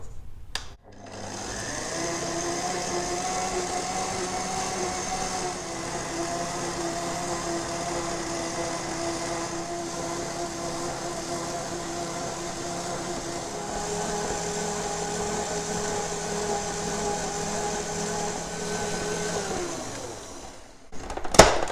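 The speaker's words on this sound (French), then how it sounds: "on va passer à un pétrissage à moyenne vitesse pendant une bonne dizaine de minutes" A stand mixer kneads chocolate brioche dough for a braided krantz cake at medium speed, a steady motor whine with a low rhythmic churn that runs continuously for about twenty seconds and then stops.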